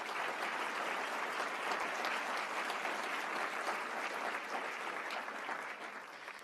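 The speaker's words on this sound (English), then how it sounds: "Let's give Bobby and Will a round of applause." A university audience at the University of Texas at Austin applauds, a dense, steady wash of clapping that holds at full strength throughout and eases slightly at the very end.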